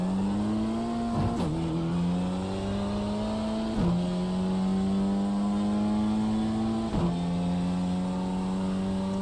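A BMW M2 in iRacing, its engine holding a steady loud drone with sharp upshifts at regular intervals and light tire noise, close and continuous with no talking.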